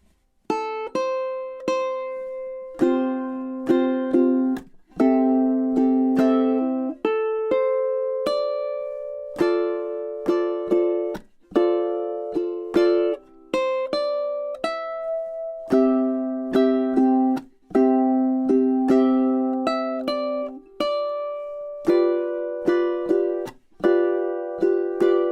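Solo ukulele plays the full pre-chorus of a song: a long, steady run of bright plucked notes and ringing chords in a lively rhythm, close and clear, with no voices.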